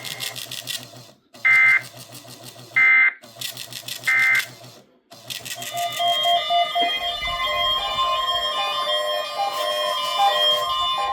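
NOAA Weather Radio weekly Emergency Alert System test: three loud buzzy digital data bursts separated by short silences, followed by a steady sustained alert tone that continues to the end.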